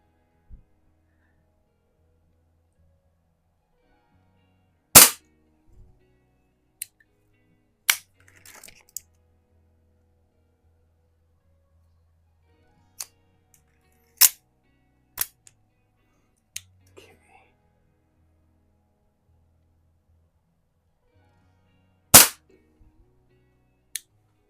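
Sharp, isolated pops of an Airforce International air pistol firing at a target, a dozen or so spaced irregularly over a quiet background, some with faint clicks of handling between shots.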